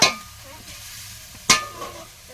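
Spices with a little sugar and chili powder stirred in a cooking pan, with two sharp scraping strokes of a spatula over a soft continuous sizzle, close and clear.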